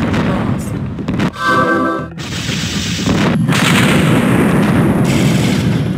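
An artillery barrage fires in the Twisted Insurrection real-time strategy game, loud booming shots layered with rumbling explosions that run continuously through the clip, close and heavy, with brief unit voice lines mixed in.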